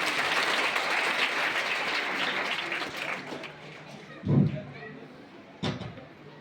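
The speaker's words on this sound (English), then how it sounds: "Big round of applause" Audience applause at a public event on an anti-drug campaign: dense clapping fills roughly the first three seconds, then thins and fades, with a couple of brief louder bursts near the end.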